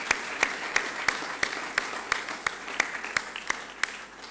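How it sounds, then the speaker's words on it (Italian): An audience at a nursing association conference session in Caserta applauds steadily, with sharp rhythmic claps standing out over a dense, even wash of clapping, moderately distant and without speech. "l'applauso è tutto per voi"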